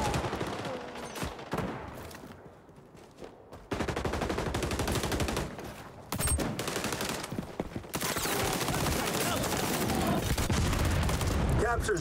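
Gunfire in the shooter XDefiant: loud, dense bursts of rapid shots and booms come and go in stretches, with in-game voices speaking at times.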